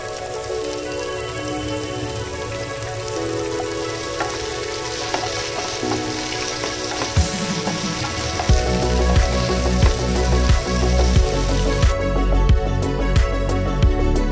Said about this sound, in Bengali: আমার কেটে রাখা ক্যাপসিকাম আর পেঁয়াজ এগুলো দিয়ে আমি জাস্ট সতে করে তুলে নেব।